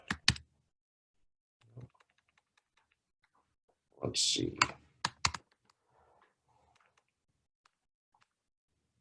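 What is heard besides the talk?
typing on a computer keyboard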